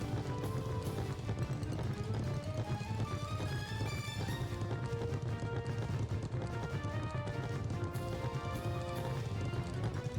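Horse hooves clip-clop in the video game Suikogaiden, a rhythmic trotting patter running under loud layered game music and effects for the whole stretch, with no talk.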